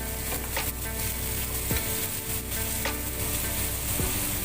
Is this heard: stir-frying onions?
yes